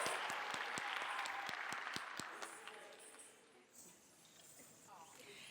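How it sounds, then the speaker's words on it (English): Audience applause at a Kathak dance recital, a roomful of clapping that starts steady and fairly loud with a few sharp close claps, then thins and fades toward the end. "maybe a big round of applause for Promit"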